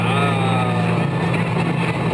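A DeLorean DMC-12 engine runs steadily at a constant idle, a close, loud continuous drone with a low hum and no talking over it.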